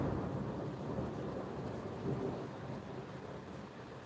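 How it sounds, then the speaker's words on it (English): Thunder from a rough thunderstorm rumbles low and continuous beneath steady rain, a broad sustained roar that swells slightly midway, with no talking. "that thunderstorm is getting rough."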